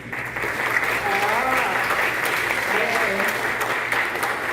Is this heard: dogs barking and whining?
no